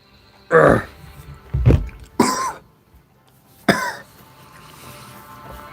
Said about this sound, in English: Gotta cough some.